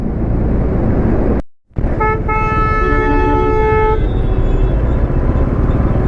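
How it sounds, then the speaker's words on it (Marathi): Heavy city traffic in Pune, a steady roar of engines and road noise with a loud car horn blaring for about two seconds, close by, under a continuous traffic wash. "इथे एवढं ट्रॅफिक आहे ना पुण्यात सध्या."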